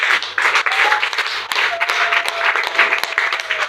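A church congregation applauds, a dense run of clapping that rises and falls at a moderate distance, with a faint tonal drone beneath it.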